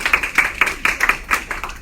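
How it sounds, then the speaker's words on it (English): Applause from an audience at a business planning meeting: a short run of quick, crisp, evenly spaced claps, close and fairly loud. "Let's give Alexia a round of applause"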